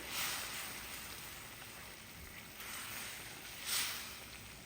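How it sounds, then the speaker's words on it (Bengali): Spice paste fries in an uncovered pan for a sea bata fish bhuna curry, giving a soft, steady sizzling hiss that stays quiet and even throughout. "এই যে ঢাকনাটা তুলে নিলাম, মশলাটা কষানো হইতেছে।"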